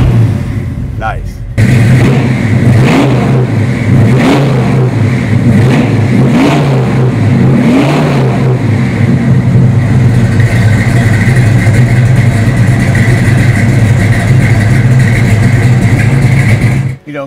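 A deep, throaty V8 exhaust through a Flowmaster system on a 1968 Ford Shelby GT500KR Mustang burbles loudly up close, blipped in several quick revs before settling into a heavy, rumbling idle.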